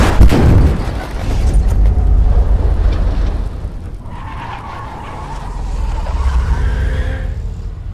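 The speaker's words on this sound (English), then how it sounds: "we lose control of the car and crash" Car skidding and crashing in the video game The Urge during a chase: a loud tyre screech and crunching impact open, followed by sustained rumbling engine and road noise with a tonal whine later, no talk.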